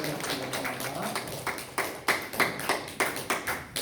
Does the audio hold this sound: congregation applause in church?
yes